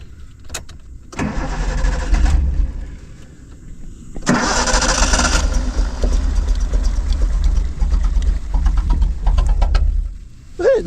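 A Datsun 240Z that sat wrecked for 30 years cranks and fires, its engine catching in loud rough bursts, stumbling, revving and settling into an uneven idle close by.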